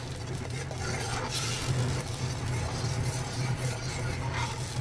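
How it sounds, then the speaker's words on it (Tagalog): Blended tomato with crayfish sautés in a pan, a steady soft sizzle and bubbling with occasional stirring scrapes, close and continuous throughout. "Gisa-gisa lang siya ng mga ilang minuto."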